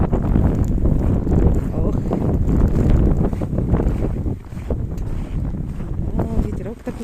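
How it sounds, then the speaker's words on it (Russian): Snowstorm wind during a blizzard in Labytnangi, north of the Arctic Circle, buffets the microphone with a loud, steady, rumbling roar that swells and eases slightly throughout. "Дует так немножко."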